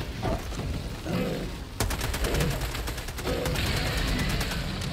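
Bursts of rapid automatic gunfire in a shooter video game, several fusillades of crackling shots, loud and close, separated by short gaps before a denser sustained volley at the end.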